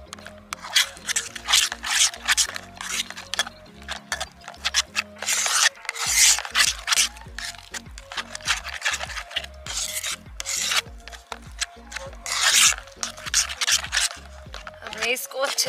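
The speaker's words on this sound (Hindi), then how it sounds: "हम डालेंगे इसमें 1 टेबलस्पून जिंजर गार्लिक पेस्ट, और इसको भी हम अच्छे से मिक्स कर लेंगे।" Ginger garlic paste is stirred into a paneer tikka marinade in a bowl, giving steady wet scraping and rubbing strokes that repeat for several seconds, close to the microphone, while a person talks over part of it.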